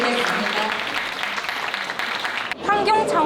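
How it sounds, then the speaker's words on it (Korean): A crowd claps in dense, sustained applause that cuts off abruptly near the end, followed by a brief stretch of voices and noise. "큰 박수 부탁드리겠습니다."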